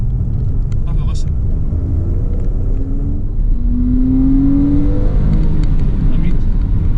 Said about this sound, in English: you never get tired of hearing that flat six